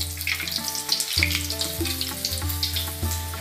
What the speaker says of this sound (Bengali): আমাদের বেগুনি ভাজা আরম্ভ হয়ে যাচ্ছে